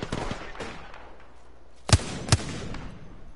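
Gunfire in a PS4 shooter game: two sharp, loud shots stand out near the end over a busy background of scattered game sounds and distant firing.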